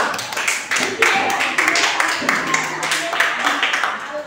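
A school class claps for a student, loud and close, with a few separate claps first and then a denser burst with some voices mixed in.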